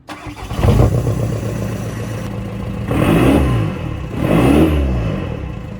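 A Volkswagen Golf Mk5 TDI diesel engine cranks and catches, then revs up twice in loud, rising surges before settling back to a steady idle.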